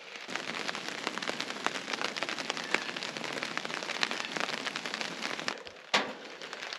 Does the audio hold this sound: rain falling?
yes